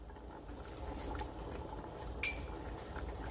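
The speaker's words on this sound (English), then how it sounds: "I'm going to get some water." Water splashes and trickles into a bowl while a cornstarch slurry is prepared for smothered neck bones. The liquid sound is soft and fairly close, with a brief clink partway through.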